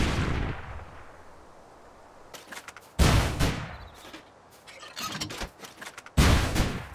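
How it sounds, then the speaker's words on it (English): Rockets strike a stone wall in Rust, each impact a sharp, loud blast with a long rumbling decay; several explosions land at uneven intervals, with smaller crackling debris bursts between them. "I keep firing rockets of each type at a stone wall to see how many rockets it takes to break it down"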